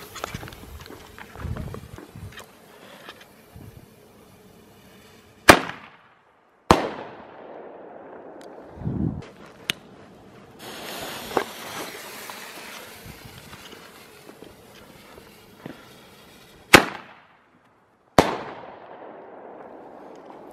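Thunder Kong Power Pack firecrackers go off outdoors, with several sharp, loud bangs spaced irregularly among quieter rustling and faint background noise.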